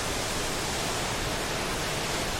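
Tortum Waterfall roars with a dense, steady rush of falling water, loud and close with no break or talk over it.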